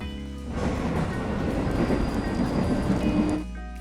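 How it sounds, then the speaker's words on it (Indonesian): A train rumbles steadily along the rails, with a dense rolling clatter and a faint squeal, growing louder then dropping off near the end. "Lanjut, Dom sudah berada di kereta."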